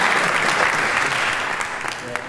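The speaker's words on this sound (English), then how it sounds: "we give this great panel a huge round of applause?" A conference audience at an innovation summit applauds a panel, steady dense clapping from a large room that tapers off slightly at the end.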